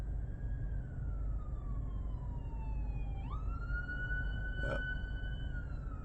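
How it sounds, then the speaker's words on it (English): A passing ambulance siren wails steadily, its pitch sweeping down slowly then jumping back up, over a constant rumble of traffic. "That's an ambulance."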